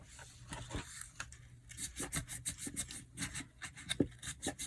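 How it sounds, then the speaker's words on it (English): Fine 1200 grit sandpaper rubs against a vintage Waterman pen cap, making quiet, rapid back-and-forth scratching strokes in a steady rhythm, close up and alone. "So I'm using this, what is this, 1200 grit sandpaper."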